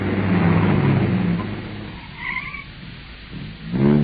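A car in an old-time radio drama effect slows down suddenly. The engine drones steadily, then winds down and drops away, followed by a brief squeal and a low rumble as it comes to a stop.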